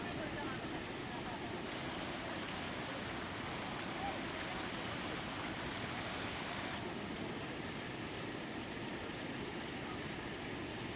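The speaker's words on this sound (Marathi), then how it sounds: "आपण बघतोय नदीचा प्रवाह मोठ्या प्रमाणात वाढलेला आहे" A swollen river in Jalna district, Maharashtra, runs high after torrential rain, heard as a steady, distant, broadband rushing roar of flowing water that never lets up.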